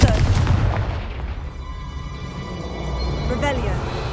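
Confringo fire-blast spell in Hogwarts Legacy, loud, close booming explosions at the start that decay into a rumbling tail, with a smaller burst near the end.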